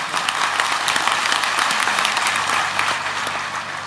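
An audience claps throughout a Hindu religious discourse (katha), a lively burst of many hands with scattered sharper claps standing out, sustained and moderately distant.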